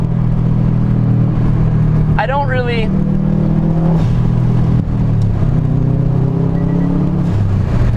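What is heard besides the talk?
Subaru blobeye Impreza WRX STi engine while driving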